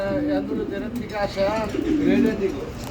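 Red indigo pigeons, an Indonesian-bred colour variety, coo softly in a pigeon farm loft, their low throaty calls repeating unevenly in the foreground while people talk nearby.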